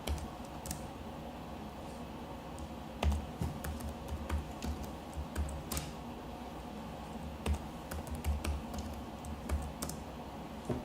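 Password being typed on a computer keyboard, a steady run of close, crisp key clicks with a few louder taps, no talk.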